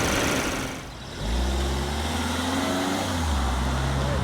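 A Volkswagen Arteon's 2-liter turbocharged inline four-cylinder engine while driving, a steady low drone with road noise that dips briefly then swells back as the car accelerates.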